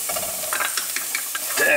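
Garlic and chicken breast frying in a pot, with oil sizzling and a utensil stirring, scraping and clattering in irregular bursts at close range, cooking rice with chicken; no voices.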